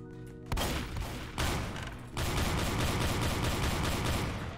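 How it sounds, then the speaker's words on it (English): Double shotgun blasts in the game Strucid: a loud opening boom, then rapid overlapping shots that build into a dense, sustained volley with no voices. "That is double shotgun right there."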